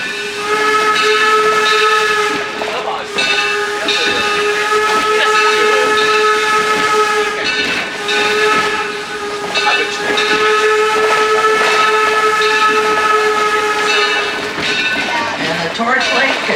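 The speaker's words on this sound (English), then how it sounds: "it is on the books as being the oldest regularly operated steam locomotive in the United States" Torch Lake, a small copper-mining steam locomotive from Michigan's Upper Peninsula, sounds a long, loud sustained whistle over steady hissing steam and running noise, with brief breaks in the tone.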